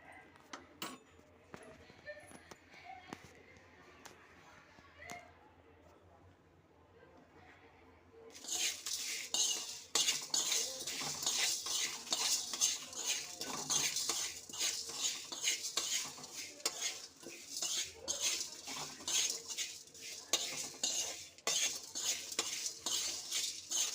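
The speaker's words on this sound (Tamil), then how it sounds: "இதை நம்ம லைட்டாக வதக்கிக்கணும். ரொம்ப தீ வைக்கிறது வேணாம்." Tamarind rice ingredients are sautéed lightly over low heat in a pan. Quiet scraping and stirring come first, then a steady loud sizzle with repeated utensil clinks against the pan, continuing to the end.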